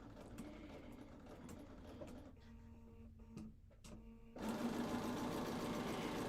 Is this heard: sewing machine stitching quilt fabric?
yes